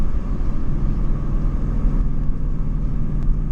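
2016 Mustang GT with loud exhaust cruising on the road, a steady low rumbling drone heard from inside the cabin without gear changes or revving.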